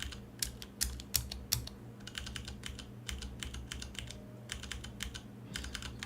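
Computer keyboard keys tapped in bursts while navigating a Rust GUI built with Makepad, the clicks close and crisp over a low room hum, with no talking.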